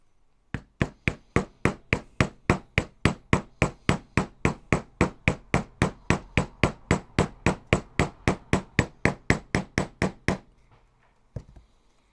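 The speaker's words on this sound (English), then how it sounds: "use my little hammer" A small hammer taps a differential casing part on an HPI 1/5 scale gas Baja 5B SBK build, about thirty crisp, evenly spaced strikes in a steady rhythm, close and alone.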